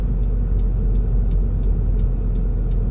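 Car turn signal clicking at a steady, even rhythm, about one tick every third of a second, over a constant low engine and road hum inside the cabin.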